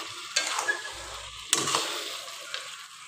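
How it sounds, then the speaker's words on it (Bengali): Chicken sizzling and being stirred with spices in a pan for a home-style chicken curry, a steady frying hiss with a few scraping stirs of the spoon, close and fairly quiet. "তো ভালো করে নেড়ে চেড়ে কষিয়ে নেবো চিকেনটা"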